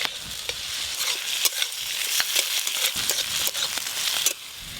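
Ginger, garlic and tomato fry in oil in a pan with a steady close sizzle, crackling pops and scraping stirs throughout, easing off slightly at the end; no talking.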